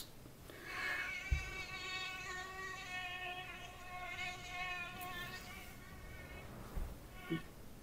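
A thin, steady whine like mosquitoes buzzing near someone lying down trying to sleep carries on for several seconds, likely a voice imitating mosquitoes, with a couple of soft knocks toward the end.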